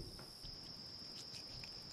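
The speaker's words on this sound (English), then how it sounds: "Like crickets?" Crickets chirp in a steady, high, continuous trill, faint and unbroken, with no voices.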